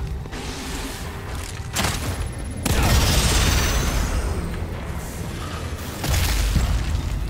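Explosive sword blasts in the video game The Evil Within 2, heavy booming bursts with rumbling noise that swell and fade across the clip, loud and dense, no speech.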